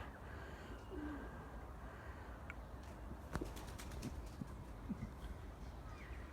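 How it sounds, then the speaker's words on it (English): Birds calling outdoors with low pigeon coos beneath a steady ambient hum, scattered soft chirps and a few brief clicks. "There's the birds up there."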